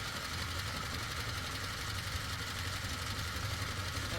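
Serger sewing machine running steadily while stitching fabric, a continuous dense mechanical hum and rapid vibrating whir with no pauses, close and fairly quiet.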